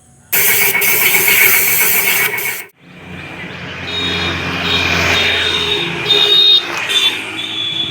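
Hero Super Splendor motorcycle engine starting after a full service, a loud cranking burst cutting off briefly, then the engine catching and settling into a steady idle with a few rev blips, no talk.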